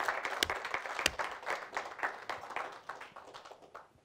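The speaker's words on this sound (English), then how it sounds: "Can we just give a big round of applause to Edoardo for an excellent lecture?" An audience claps after Edoardo Ongaro's inaugural lecture, a dense patter of many hands with a few sharp, close individual claps early on, gradually thinning and fading toward the end.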